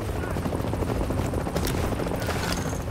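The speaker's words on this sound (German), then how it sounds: "Oder unser Hubschrauber." A helicopter in The Division drones with a loud, continuous rotor chop throughout, mixed with scattered bursts of game gunfire and impacts while German voices talk over it.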